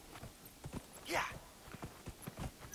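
Hooves clip-clop at a steady trotting rhythm as a horse is ridden in the video game Dragon Age: Inquisition, with a voice talking over it.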